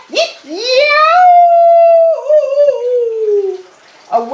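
A human voice imitates a coyote, rising into a long wavering howl with yipping barks and a cackling edge, loud and close, with a child-like vocal tone.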